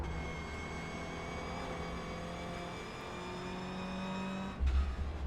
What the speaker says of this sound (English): Brake hard, down the gear, off again.